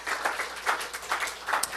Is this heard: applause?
yes